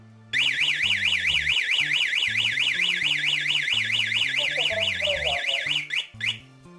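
A Satlink SL-GSM10C GSM alarm wails with a loud, fast-warbling siren tone, while a lower stepped electronic pattern runs underneath; a voice briefly cuts in near the end as the siren stops.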